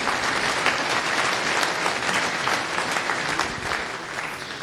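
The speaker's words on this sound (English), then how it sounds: "So round of applause for Pascal." Steady applause from a conference audience welcoming a speaker on parallel programming in Go, continuous and fairly dense throughout with no speech.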